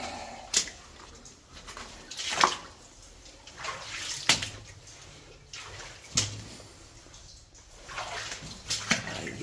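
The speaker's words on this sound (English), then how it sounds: "And of course, there's water." Water inside the adit of an old 1900s arsenic mine beside a creek, splashing and sloshing in repeated bursts as someone wades through it, close and echoing, with no talk.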